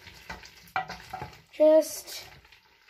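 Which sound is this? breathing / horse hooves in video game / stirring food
stirring food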